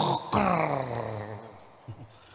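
A voice imitates snoring, producing a couple of loud, drawn-out groaning rasps close to the listener. No other sound accompanies it.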